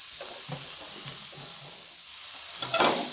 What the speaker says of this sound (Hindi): इसको भी 2 मिनट के लिए फ्राई करेंगे।